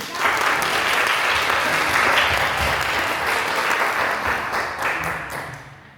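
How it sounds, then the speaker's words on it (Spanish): Loud, sustained audience applause at an experimental sound event, a thick steady roar of many hands clapping that holds for several seconds, then gradually fades near the end. "un aplauso para ellos"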